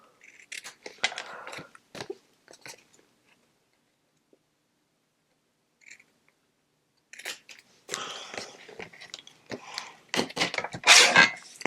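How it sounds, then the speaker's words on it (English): Scissors snip through card edges in a few bursts of crisp cutting, a quiet pause, then denser, louder snipping and trimming near the end. "Let me cut these edges off."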